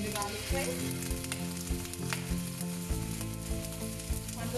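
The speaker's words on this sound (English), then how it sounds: "I'm adding ginger garlic paste." Ginger garlic paste frying in hot vegetable oil in a wok, a loud steady sizzle that carries on throughout, with faint stirring knocks and clatter close by.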